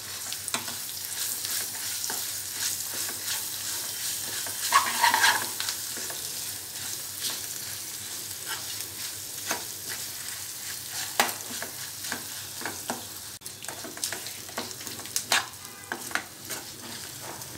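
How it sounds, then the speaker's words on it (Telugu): Ground green chilli chutney is stirred into a hot tempering of oil and curry leaves, giving a soft, steady sizzle with repeated scraping stir strokes close by and no talk. "తాలింపు ఫ్రై అయిన తర్వాత ముందుగా నూరుకున్న పచ్చిమిర్చి పచ్చడిని వేసి కలుపుకోవాలి."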